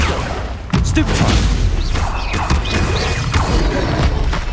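Spell-casting effect from the Hogwarts Legacy video game, a loud burst with a thumping impact followed by crackling magical whooshes and mechanical rumbles over steady game background.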